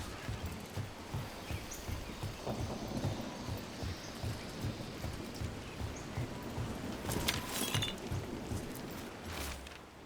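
Rain patters steadily in a Dragon Age: The Veilguard game scene, a faint continuous wash with low rumbling thunder underneath and a few brief clinks.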